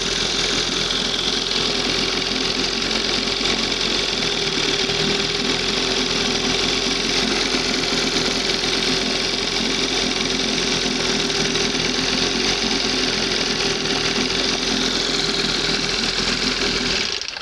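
Old 20 hp Johnson outboard motor running steadily at a raised rpm, a loud continuous close engine drone with no talk over it.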